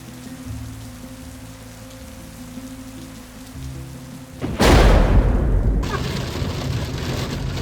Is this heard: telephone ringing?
no